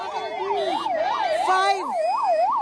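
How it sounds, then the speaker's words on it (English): Wailing ambulance sirens ring out loud and near as several ambulances leave the Uttarkashi tunnel rescue site in India, a rising and falling rhythmic wail with a second siren overlapping partway through. "So completely 10 ambulances have gone out, ferried out"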